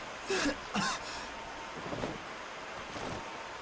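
Two short, muffled coughs in quick succession in the video game Tales of Xillia, close by, followed by quieter breathy rustling over a windy background hiss.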